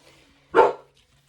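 A single sharp dog bark, fairly close, standing out against a quiet room.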